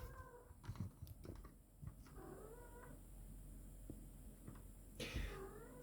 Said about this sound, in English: I'm so very sorry if you're hearing the meowing sound